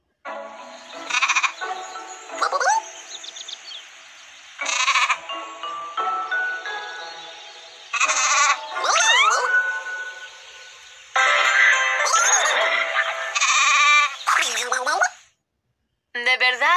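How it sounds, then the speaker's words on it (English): Sheep bleating on a farm in a series of wavering, nasal calls, several bleats in quick bursts with short pauses, close and fairly loud. "There sure are some crazy colored sheep on this farm."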